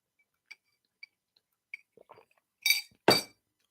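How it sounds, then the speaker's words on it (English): A drinking glass gives a few faint light clinks, then two louder, sharper clinks close by as it is set down or knocked, with no talking. "That's my drink that you're hearing"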